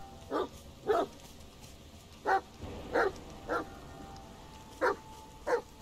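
A dog barks in the video game The Medium near a river, seven short separate barks spaced irregularly over a quiet background, moderately distant and fairly faint.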